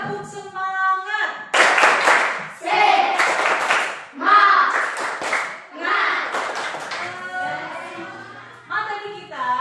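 A class of children in a primary classroom claps a rhythmic chant-and-clap routine led by their teacher, bursts of hand claps alternating with shouted group chanting and a voice calling out between them.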